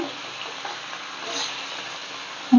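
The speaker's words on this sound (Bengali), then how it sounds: "প্রথমে আমি মাছগুলো ভেজে নিলাম" Pieces of hilsa fish fry in hot oil, giving a steady, soft, hissing sizzle at an even level that swells briefly midway, with a sudden louder knock right at the end.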